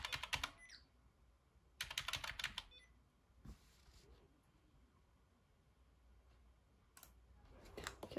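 Typing on a Redragon K552 mechanical keyboard: sharp bursts of clacky keystrokes near the start, again around two seconds and at the end, separated by quiet stretches with a few isolated clicks.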